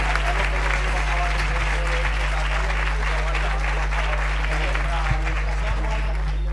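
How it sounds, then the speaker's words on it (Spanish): An audience at a carnival festival in Marmolejo applauds the carnival performers, a thick, continuous clapping over a steady low electrical hum, with voices mixed into the crowd noise. "un fuerte aplauso para ellos"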